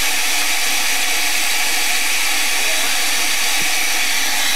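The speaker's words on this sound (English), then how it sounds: "It's because there's a hairdryer." A hair dryer runs nearby as a loud, steady, unbroken whooshing hiss that fills the whole stretch without changing.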